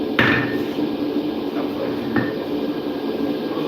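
Heavy hammer of roughly 5.5 to 6 pounds struck on hot steel while forging a straight pein hammer, a few sharp ringing blows spaced apart over a low workshop hum, with no talk.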